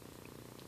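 An affectionate cat purring steadily, a soft continuous low rumble with a quick regular pulse, close and quiet with no other sounds.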